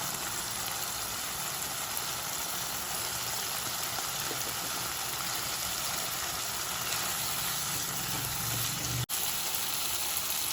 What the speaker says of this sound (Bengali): এবার আমরা এটাতে পেঁয়াজ দেবো